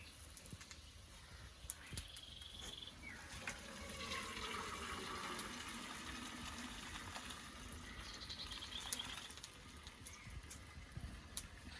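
Cold tap water runs over boiled chow mein noodles as they are rinsed, a steady soft gushing and splashing stream with brief shifts in tone as the flow hits the noodles, close but fairly quiet.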